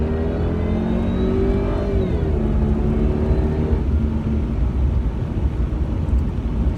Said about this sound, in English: you can hear the engine a little bit, I guess, but the supercharger is definitely what you hear more than anything else.